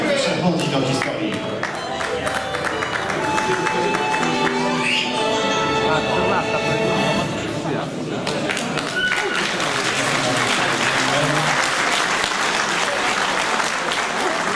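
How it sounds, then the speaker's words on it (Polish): Sustained applause from a large crowd at a hill-climb motor race, dense steady clapping throughout with a brief lull in the middle, music or voices faintly underneath. "Szczególne brawa klasa E0 1000"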